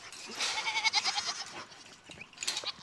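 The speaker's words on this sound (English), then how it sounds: "that goat's name is Karen" A goat bleats loudly and nasally in a couple of wavering cries, close by, with a second shorter bleat near the end.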